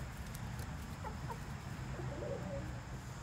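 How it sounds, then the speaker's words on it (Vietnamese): Backyard chickens, a flock kept over a year on a rural Vietnamese homestead, cluck softly now and then over steady outdoor background noise. "Mấy con gà này mình nuôi được hơn một năm rồi."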